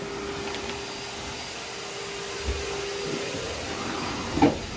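A vacuum blower runs in a dog kennel, giving a steady, loud airy roar throughout with a faint whine, and a couple of brief knocks near the end.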